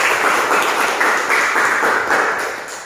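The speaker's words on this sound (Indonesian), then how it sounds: "tepuk tangan dulu untuk kawan kita" High school classroom students applaud a classmate, a steady wash of many hands clapping together for about three seconds, fairly loud and close, fading slightly at the end.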